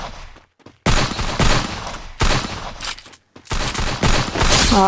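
Rapid bursts of automatic gunfire in the Free Fire video game, three loud clusters of shots separated by short silences, close and sharp, with no talk.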